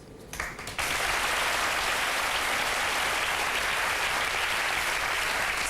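A studio audience on a French TV talk show breaks into dense, loud applause after a brief quieter start, the clapping holding steady and close until the end.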